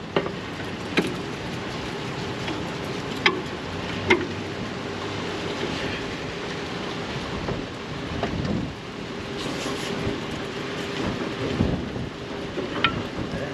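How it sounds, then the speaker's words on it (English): Strong wind blowing outdoors, roaring steadily into the microphone as a dense, continuous rush with occasional buffeting gusts and thumps, loud and with no one speaking. "the wind is blowing like hell out here today"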